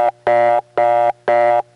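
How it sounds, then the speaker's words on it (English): A crossbar No. 5 telephone switch plays reorder tone from a shared tone plant: three loud, buzzy bursts with slightly uneven gaps and no voices. "and in the crossbar 5 it sounds like this"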